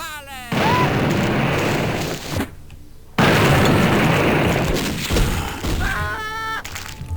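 A double-barrelled shotgun in the game Blood fires both barrels at once with a loud, heavy blast, followed by a brief gap and a second sustained roar of game noise, with a shrill tone near the end.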